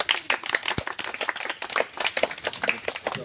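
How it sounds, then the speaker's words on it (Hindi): Children at a death-anniversary gathering in Mau clap in quick, uneven bursts of handclaps, close and fairly loud, with scattered chatter in the background. "ताली बजाइए आप लोग बच्चे।"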